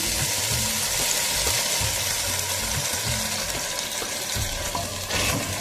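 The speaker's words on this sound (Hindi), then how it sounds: "अब मैं इसमें 2 गिलास पानी ऐड कर दूंगी।" Loud, steady sizzling and frying as water is added to fried beef in a pan, continuous throughout with faint stirring clatter and no talking.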